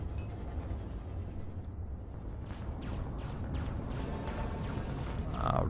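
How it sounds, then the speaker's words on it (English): Ship turrets firing in Elite Dangerous during a fight against a Cobra, a dense continuous rumble with faint repeated bursts rising slightly toward the end, no clear individual shots standing out. "Our turrets are firing."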